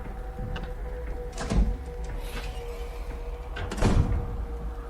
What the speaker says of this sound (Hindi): जल्दी से बाहर निकलकर मैंने दरवाजा बंद कर दिया।